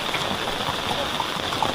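Monsoon rain at Matheran, a dense, steady hiss of falling water that stays even and close for a brief stretch.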